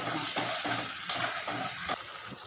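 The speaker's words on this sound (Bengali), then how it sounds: "ওই মশলা ধোয়া জলটা দিয়ে কষে নেব ভালো করে এটাকে ভালো করে আমি কষে নেব যতক্ষণ না তেল থাকছে" Spice paste for a curd katla fish curry being sautéed in a pan with a continuous soft sizzle, overlaid by repeated stirring scrapes and occasional spatula knocks.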